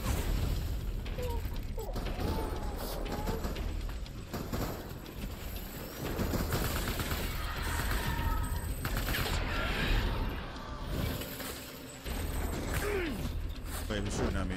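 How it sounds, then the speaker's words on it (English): Enemy gunfire during the Clifford Unger boss fight in the video game Death Stranding, with bursts of rapid shots and battlefield noise running steadily under a dense, busy mix throughout. "Wait, he's shooting at me."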